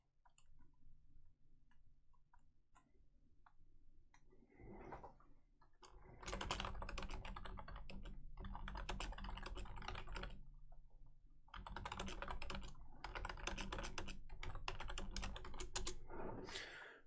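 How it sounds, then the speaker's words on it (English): Steady typing on a computer keyboard, close and fairly quiet, in bursts of rapid key clicks separated by short pauses, with no talking. "Let me just type a quick message here."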